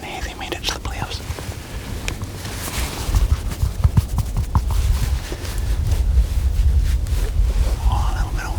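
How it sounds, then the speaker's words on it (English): Low, rumbling wind buffets the microphone steadily throughout on a snowy outdoor day, growing heavier in the second half, with faint whispery noise above it. "Oh, a little bit of wind sound coming in there."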